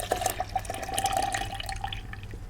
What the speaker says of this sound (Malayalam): ഈ മിക്സിയുടെ ജാറിലേക്ക് നമ്മൾ റെഡിയാക്കി വെച്ചിരിക്കുന്ന ഈ പാലൊന്ന് ഒഴിച്ചു കൊടുക്കാം.